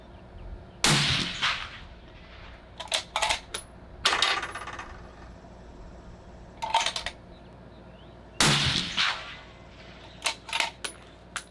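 Sharp rifle shots from a Sig Cross crack out one at a time at an outdoor range during a barrel accuracy test, separated by quieter rattling clicks between shots.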